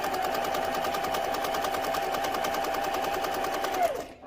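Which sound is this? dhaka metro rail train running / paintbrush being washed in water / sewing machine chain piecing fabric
sewing machine chain piecing fabric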